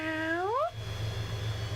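A person imitates a happy, content cat meow with one short rising vocal meow, clear and close, followed by quiet room hum.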